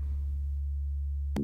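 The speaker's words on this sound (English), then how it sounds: "we're getting between sine wave and modulated sine wave output" A sine wave from a WMD Triple Bipolar VCA synthesizer module, shaped by an envelope: a steady low pure tone that holds alone, then a brief bright burst of harmonics right at the end.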